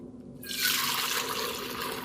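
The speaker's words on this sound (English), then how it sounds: "I'm just gonna start pouring into my smaller mason jars where I'm actually gonna store the broth." Homemade chicken broth poured from a pot with a pour lip into small mason jars, a steady close liquid rush that starts abruptly and keeps flowing, splashing and gurgling.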